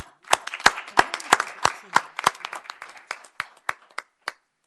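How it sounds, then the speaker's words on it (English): A small group at a city council meeting claps briefly, with scattered, uneven hand claps that thin out and stop after a few seconds. "I want a round of applause for the work the staff has done on this budget."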